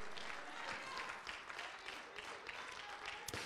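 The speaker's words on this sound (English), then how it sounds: "clap your hands if I'm preaching already" A church congregation applauds steadily during a worship service sermon, a dense wash of many hands clapping in a large room, with no voices standing out.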